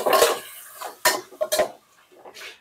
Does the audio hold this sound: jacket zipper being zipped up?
no